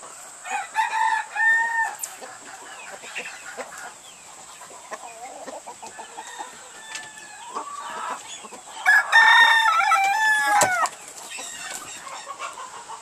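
Chickens cluck and squawk in short bursts nearby, with a rooster crowing loudly partway through, over a faint steady hum.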